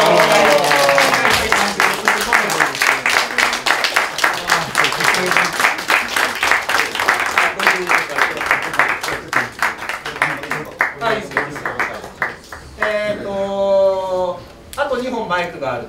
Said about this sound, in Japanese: はい、拍手どうもお願いします。